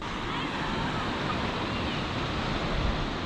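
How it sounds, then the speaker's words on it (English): Surf from ocean waves near a beach ramp at sunrise, a steady broad wash with wind noise on the microphone and no clear breaks between waves. "I can hear the ocean."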